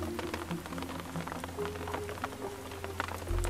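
Steady rain patters on a surface, a dense continuous hiss with scattered drop ticks, while a low engine-like hum drones underneath throughout.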